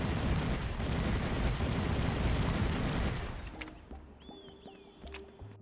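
Dense rapid gunfire from a fan-made Call of Duty Shipment remake built in the game Dreams, a loud continuous fusillade for about three seconds, then dropping to sparse, quieter shots and clicks.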